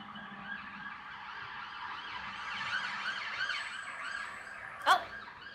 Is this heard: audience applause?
no